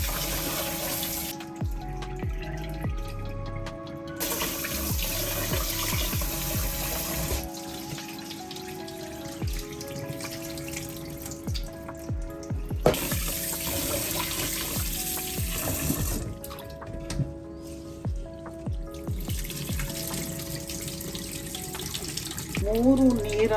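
Soaked raw white rice is rinsed and drained at a kitchen sink, with water running and splashing steadily and grains swished around, a louder gush near the middle, while a voice speaks briefly and faintly.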